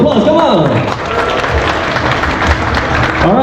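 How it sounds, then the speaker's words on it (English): Crowd applauding at the grand opening of a Red Wing Shoes store at Lalaport BBCC, a dense burst of clapping alongside music and a voice over it. "Can I hear a round of applause?"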